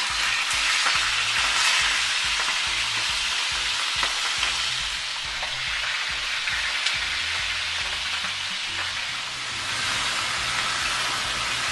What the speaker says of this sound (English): the beginning of the frying process